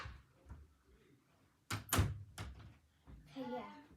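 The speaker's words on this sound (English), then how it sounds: "I'm still gonna close the door." A door pushed shut indoors gives a broadband thump near 2 s, bracketed by short knocks and rattles, with speech before and after.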